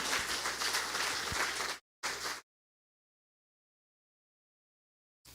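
A church congregation applauds the Lord with dense, steady clapping that cuts off abruptly, followed by a brief burst and then silence.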